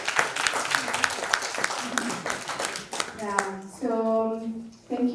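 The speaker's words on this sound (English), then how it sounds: "we need to give ourselves a round of applause for staying this long" A conference audience applauds at the close of a catalytic financing breakout session, a dense clatter of clapping for about three seconds before it thins out and a voice takes over.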